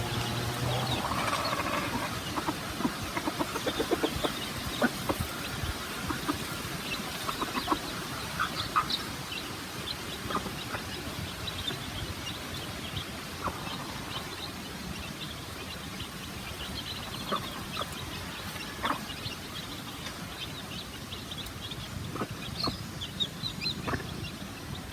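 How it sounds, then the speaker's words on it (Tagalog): Flock of seven hens in a backyard coop, steady overlapping clucking and squawks over constant outdoor background noise, no one talking. "Meron akong 7 na hens."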